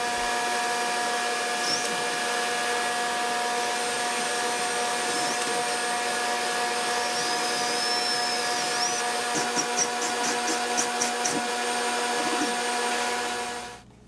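A power drill bores half-inch holes during kitchen remodel wiring for a ceiling fan and sink light, a loud steady motor whine running almost continuously for about thirteen seconds with shifting tones before cutting off.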